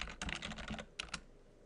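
Key presses on a computer keyboard as a firewall command is typed, a quick burst of close clicks followed by a brief pause and two more taps.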